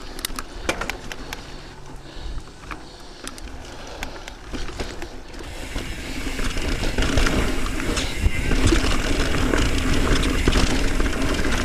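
A carbon bike frame with loose internal cables rattling against the inside of the tube gives a steady stream of small clicks and knocks over road rumble, growing louder and denser in the second half.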